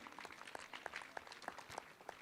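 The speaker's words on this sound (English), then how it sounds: "Let the claps be going" School audience applauding a teacher at a felicitation ceremony, with a soft, steady patter of many hands clapping at a distance, faint and continuous throughout.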